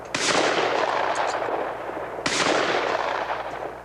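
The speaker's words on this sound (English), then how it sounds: "Quick kill, instinct shooting." Two loud, close gunshot blasts during instinct shooting training, each a sharp crack followed by a long rolling echo, the second about two seconds after the first.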